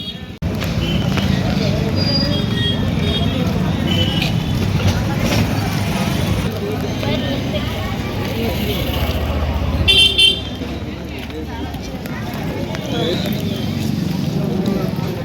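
A busy weekly village market with steady traffic noise and occasional vehicle horn toots, crowd voices chattering throughout and a brief louder honk burst midway.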